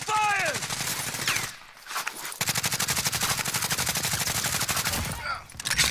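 Rapid automatic rifle fire from a GRAU 5.56 in Call of Duty: Warzone rattles in dense, loud bursts, with a brief pause before a long sustained stream of shots; players call out over the gunfire.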